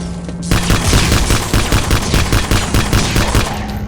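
Rapid automatic gunfire in the video game Vivisector: Beast Within, a loud sustained burst of closely spaced shots that starts abruptly and keeps going without a break.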